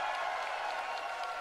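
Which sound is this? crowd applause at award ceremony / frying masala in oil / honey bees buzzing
crowd applause at award ceremony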